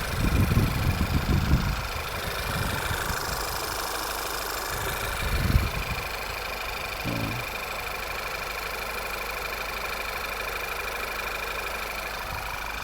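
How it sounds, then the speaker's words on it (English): A 2010 Volkswagen Passat B6 engine idling after a PCV valve replacement, with the AC on and both cooling fans running, a steady even hum with a faint ticking texture, plus a brief thump and a few louder bursts early on. "Seems to be idling pretty good."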